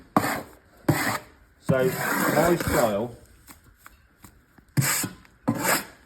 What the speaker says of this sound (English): So I'm cutting till I've got sort of the length of sausage that I want.